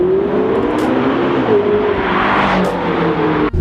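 A McLaren 12C supercar accelerates hard, heard from inside the cabin: a loud, steady engine roar rising in pitch as it builds speed, with a brief gear-change dip near the end.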